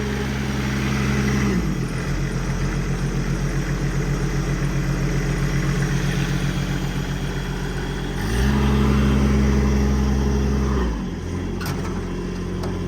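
An EnPak diesel auxiliary power unit mounted on a 2016 Ford F550 extended-cab mechanics truck idles steadily after starting, a loud continuous low rumble with a brief rise in engine pitch near the end.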